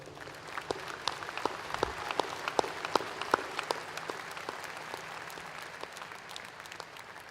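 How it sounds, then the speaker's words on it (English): Graduates at a spring 2022 graduate school commencement ceremony applaud in a large hall, a steady, fairly soft wash of many hands with scattered sharper individual claps, no talking over it. "Let's give yourselves one big round of applause again."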